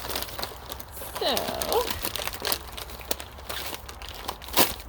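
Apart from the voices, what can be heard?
opening paper seed package with plastic bag inside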